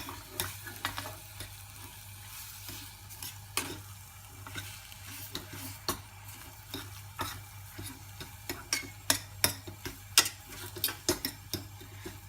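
Ingredients for a crispy salmon dish being gently folded into a mixture, soft irregular scraping and light clicks of a utensil against a bowl over a low steady hum, quiet and close.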